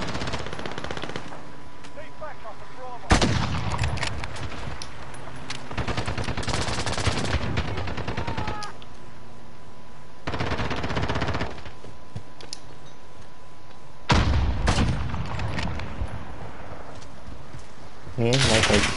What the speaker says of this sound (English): Me and Michael just keep sniping at each other.